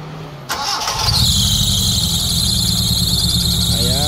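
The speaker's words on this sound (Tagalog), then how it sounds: "paandarin natin yung makina." A Mitsubishi Lancer GLi with a 4G15 engine, recently given a general overhaul after overheating, cranks with a short starter whir and then catches, settling into a loud steady idle with a high belt squeal running over it.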